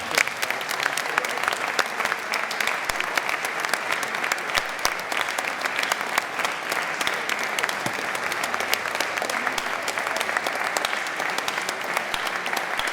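An audience at a Christmas nativity concert in Jesolo applauds the orchestra's soloists with long, even clapping, thick with sharp individual claps, carrying on evenly throughout with no voices on top.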